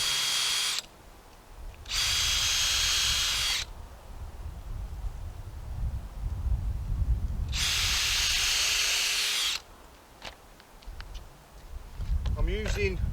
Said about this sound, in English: I'm going to drill a couple of pilot holes in this top plank only